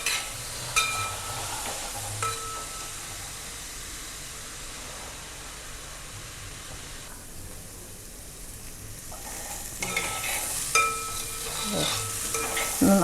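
Onions sautéing in a pan for egg thoran, a steady soft sizzle with occasional stirring scrapes and clinks, moderately close, a little louder toward the end, with no voices.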